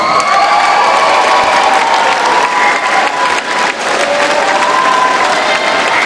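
A large crowd at a SEA Games squash semi-final claps and cheers loudly and continuously, with dense applause and shouts filling the hall. Whistles and whoops ring out over the steady roar.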